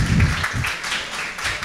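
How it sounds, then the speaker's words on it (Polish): An audience at a Polish tech talk on RethinkDB applauds, a steady wash of clapping at moderate level lasting under two seconds. "to poproszę o klaski gorące na wejście."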